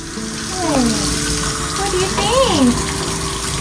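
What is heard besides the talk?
water running during a dog's bath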